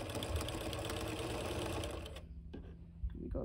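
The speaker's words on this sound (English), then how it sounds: "making sure that I don't catch the string in my stitching" A sewing machine stitches a ruffle onto a pillow, running in a steady close whir for about two seconds before it stops, leaving faint handling sounds.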